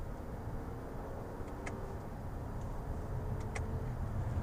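A 2018 Toyota Camry XSE accelerating, heard from the cabin as a steady low engine and road rumble that swells slightly toward the end, with a few faint ticks.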